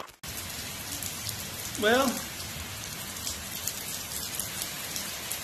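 Steady rain patters on a surface, a continuous hiss of drops close by, with a brief voice speaking near the start.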